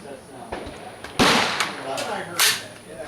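Two or three sharp cracks of Smith & Wesson M&P AR-15 rifle fire with 5.56 rounds, loud and close, spaced about a second apart, with faint outdoor background noise between shots.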